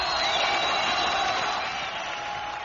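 Rapturous applause from an Adelaide concert crowd welcoming a band in 1964, a dense continuous roar of clapping and cheering with high-pitched screams over it, sustained throughout.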